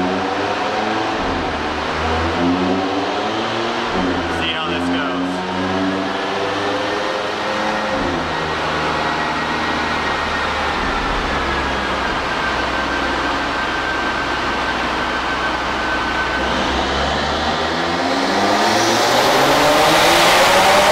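An Audi RS3 fitted with a turbo inlet runs hard on a dyno, its engine droning and climbing steadily in pitch for a long continuous pull, loud and close, then rising sharply at the end.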